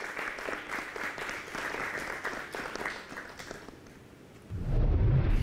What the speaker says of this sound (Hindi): एक बार मैं चाहूंगी सभी से कि जोरदार तालियों के साथ इनकी हौसला अफजाई जरूर करें